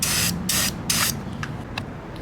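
An aerosol can of primer spray hisses in three short bursts, close up, followed by a few faint clicks and quieter rustling.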